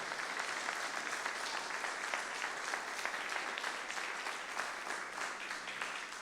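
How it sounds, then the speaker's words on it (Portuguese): A church congregation applauds together during a worship service, steady dense clapping filling the space at a moderate, even level from start to finish with no talking. "Vamos aplaudir o Senhor e glorificar o seu nome por isso."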